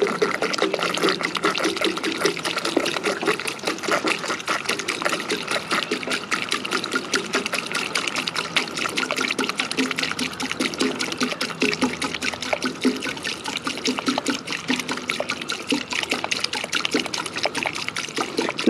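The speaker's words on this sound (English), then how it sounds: "It's gonna go straight on in. 1 gallon Seafoam in the gas." A full gallon of Sea Foam pours steadily into a car's gas tank, a continuous close trickling and gurgling of liquid that runs unbroken for nearly twenty seconds with no talking.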